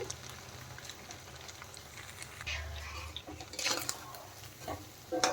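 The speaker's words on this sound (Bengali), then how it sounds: "এখন এইগুলো কিন্তু ভেজে নিতে হবে লাল লাল করে" Semolina and raw potato fritters (bora) frying in oil, a faint, steady sizzle with occasional scraping and clinking as the fritters are turned in the pan.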